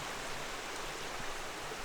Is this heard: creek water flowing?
yes